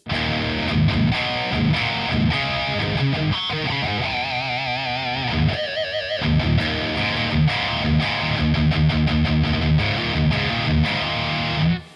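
Heavily distorted electric guitar through a BluGuitar Amp1 Iridium Edition turned all the way up, played loud and continuous, thick saturated chords and riffs with a brief pause midway, no voices.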